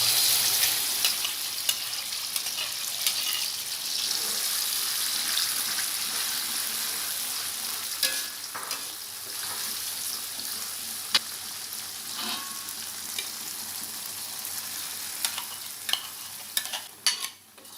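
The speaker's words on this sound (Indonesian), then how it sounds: "Goreng semua bumbu yang sudah dihaluskan." Ground spice paste fries in hot cooking oil in a wok, a loud continuous sizzle broken by scraping and stirring clatters of the spatula, close up and with no talking.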